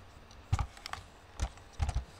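A computer keyboard gives three brief clusters of close keystrokes while Python code is typed. The clicks are quiet and separated by short pauses, and there is no speech.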